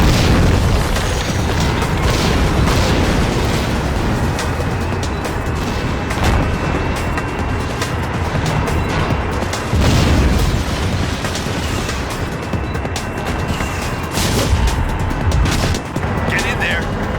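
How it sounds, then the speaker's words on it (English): Dense battlefield din from the PS2 game Battlefield 2: Modern Combat, with heavy booming explosions and bursts of gunfire rolling continuously and loudly for the whole stretch, shouted voices mixed in among the blasts. "Friendly rounds impacting our position."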